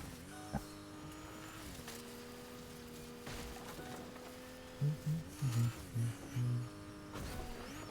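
A Fortnite video game car drives along with a steady, buzzing engine drone held at an even pitch, and a few louder low thumps come near the end.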